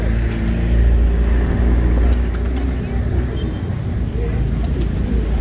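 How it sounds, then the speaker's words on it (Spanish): Domestic pigeons of the Castilla breed coo low and softly on a street in Jinotepe, their calls nearly buried under a steady rumble of passing traffic and street noise. "paloma de Castilla, las aves de paloma de Castilla."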